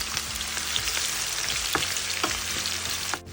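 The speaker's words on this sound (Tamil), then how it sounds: "நம்ம பெரிய சைஸ் வெங்காயத்தை போட்டு நம்ம அழகாக அதை வதக்கிக்கலாம்." Steady, dense sizzling of large onions sautéing in a pan, with occasional soft clicks of stirring over the constant crackle.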